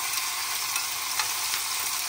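Fish sizzles steadily in hot annatto oil in a pan, a continuous bright crackle at close range with no talk.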